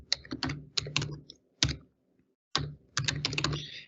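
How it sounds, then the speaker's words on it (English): Bursts of keystrokes on a computer keyboard while entering details into a CRM form, clustered in quick runs with short pauses, close and clear with no talking. "And I can type in the person's information right here."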